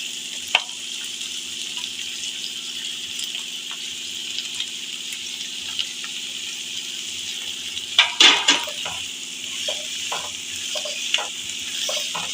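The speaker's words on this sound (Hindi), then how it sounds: "अब इसके अंदर हम डाल देंगे टमाटर और उसको हल्का सा फ्राई कर लेंगे" Tomatoes lightly frying in a pan for chicken jalfrezi, a steady soft sizzle running throughout with a few brief utensil knocks and stirring scrapes, clearest around the middle.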